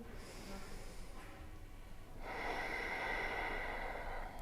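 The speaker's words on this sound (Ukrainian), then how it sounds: "Вдих, видих." Steady breathing during a calming Moon Salutation yoga practice: a soft inhale gives way to a longer, stronger exhale, close and alone with no talking.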